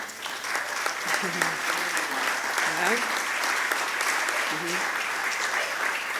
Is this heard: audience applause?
yes